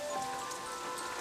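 Raindrops patter steadily on a roof during a rainy day, a soft, even wash of drops with no talking.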